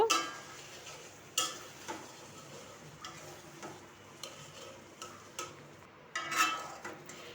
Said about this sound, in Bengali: কষানো হয়ে গেছে এখন আলুগুলোকে দুই মিনিট আরও কষিয়ে নেব